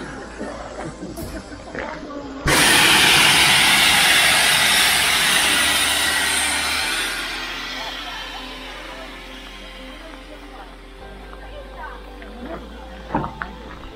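A sudden loud hiss of steam from a steam train bursts out and slowly fades over several seconds, with a low murmur of people nearby.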